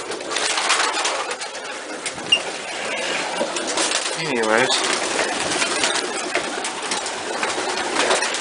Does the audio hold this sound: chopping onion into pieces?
no